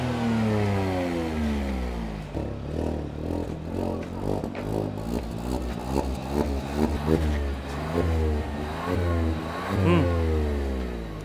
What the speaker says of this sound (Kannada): ನೋಡಿದ್ರಲ್ಲ ಈ ಥ್ರಾಟಲ್ ಹೆಂಗಿದೆ ಅಂತ ಹೇಳ್ಬಿಟ್ಟು